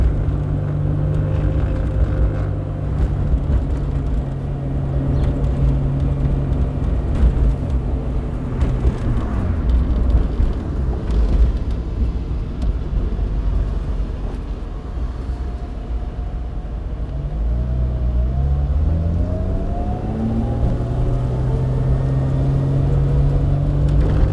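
A 230 hp V6-swapped Mazda Miata drives in second gear with a loud, close engine drone whose pitch rises and falls as the car jerks between throttle on and off, with no one speaking.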